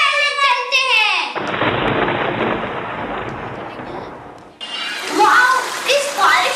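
Heavy rain pours down in a thunderstorm, a dense broadband hiss under rumbling, preceded and followed by bright, excited children's voices talking over the downpour.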